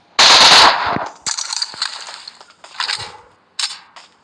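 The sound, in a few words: gunfire from a gun in the video game PUBG Mobile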